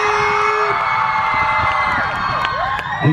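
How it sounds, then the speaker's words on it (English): Crowd of fans at a pop group's live appearance in Abu Dhabi cheering and screaming, a loud sustained wash of high-pitched shouts and whoops with clapping underneath. "a big round of applause for these guys"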